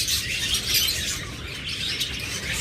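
A pair of albino opaline Fischer's lovebirds chirps in a continuous busy chatter of high tweets, close and fairly loud over a dense background noise, with no voices.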